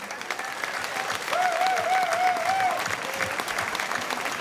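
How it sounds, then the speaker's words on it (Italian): An audience applauds musicians at an outdoor concert in Piazza Manzoni, Jesolo. Steady clapping swells for about a second and a half, with a high whistle riding over it, then continues at a lower level. "Lo vogliamo fare un applauso solo per loro,"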